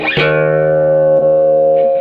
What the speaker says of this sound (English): This has a little delay in it. Terrible delay.